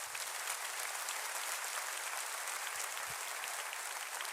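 Loud, dense clapping from a large church congregation fills the whole stretch, continuous and even with no voices above it.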